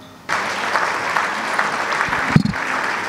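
Audience applause in a conference hall at an African insurance markets meeting in Gabon, starting abruptly after a quiet moment and continuing as steady, moderately loud clapping, with a louder thump near the end.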